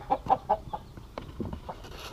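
Several soft, rhythmic clucks from a rooster and chickens nearby on a small family farm, followed by scattered quieter clucking and faint farmyard noise.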